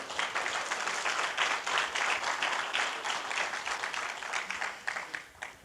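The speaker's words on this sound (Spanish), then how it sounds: "Si usted está alegre, dele un aplauso al Señor" A church congregation claps steadily, a dense, continuous wash of many hands at an even level that begins to thin out near the end.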